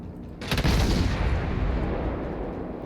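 Warship main-battery fire in World of Warships: a sudden loud boom with a sharp onset, then a long rumbling roar that slowly decays, with no speech.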